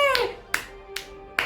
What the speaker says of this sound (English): Even I am clapping.